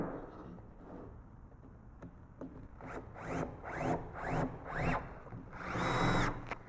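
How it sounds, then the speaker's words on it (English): Pocket screws driven with a power drill into a wooden crown molding jig: several short rising whirring bursts in a row, then one longer run, close and fairly quiet. "then put in the pocket screws"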